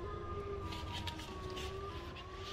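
A droning, wavering siren wail attributed to Sirenhead sounds continuously at low level throughout.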